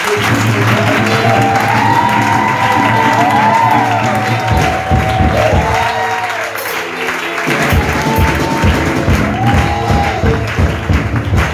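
A church congregation at a divine healing service bursts into sustained loud applause and cheering, with dense clapping mixed with shouts and rising voices that carry on through the whole stretch.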